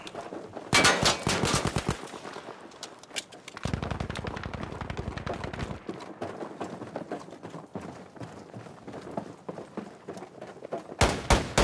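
Bursts of automatic gunfire in Battlefield 5 during a milsim operation on the Hamada map, with a long loud volley at the start, a second sustained burst midway and another at the end, separated by quieter gaps of scattered shots.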